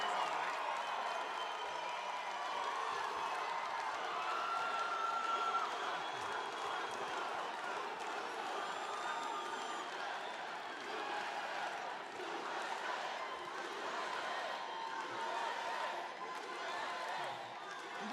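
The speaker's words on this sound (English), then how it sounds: "This is a very rambunctious crowd." A large crowd at a Trump campaign rally in Tucson, Arizona, cheering and applauding steadily from a distance, a sustained roar of voices and clapping with whistles rising over it.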